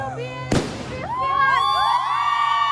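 Firecracker set off in front of a university main gate: one sharp loud bang, followed by a crowd of young people whooping, cheering and shouting.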